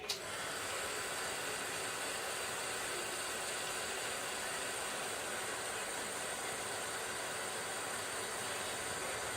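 A heat tool blows steadily and close by, a continuous hissing roar that sets embossing on a zoo-themed scrapbook layout.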